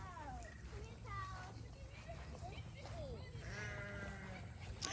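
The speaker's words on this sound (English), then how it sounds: "They're pygmy goats." Pygmy goats bleat repeatedly on a farm, several wavering calls rising and falling over a constant low rumble, with people talking nearby.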